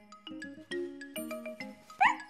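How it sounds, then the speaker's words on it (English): A small cartoon dog gives a short, bright, happy yip that stands out at the end, over light tinkling musical notes from a children's animated show. "Oh, Snuffy, said Miffy, you are such a clever little dog"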